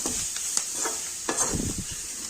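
Cauliflower is stirred and fried in a pan at a Punjabi wedding-style cooking session, with steady close sizzling and repeated scraping stir strokes and no talk.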